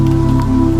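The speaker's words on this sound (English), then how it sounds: "let the rain become your lullaby. Let it tap against your roof" Steady rain tapping on a roof, a dense even patter with a low continuous hum beneath, close and constant throughout the short stretch.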